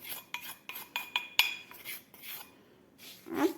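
Coarse sea salt being stirred together with crushed, pounded pink peppercorns in a dish, giving a series of light clinking scrapes and taps of a utensil against the bowl, close and quiet with no talk.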